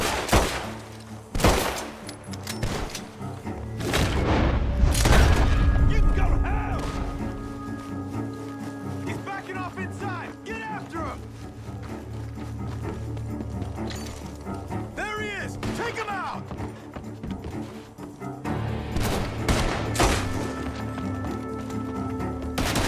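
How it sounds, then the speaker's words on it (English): Bursts of rapid gunfire ring out in Red Dead Redemption 2, with sharp shots scattered across the stretch and a heavy volley in the middle, mixed with game ambience and voices. "The gunshots are coming from that barn!"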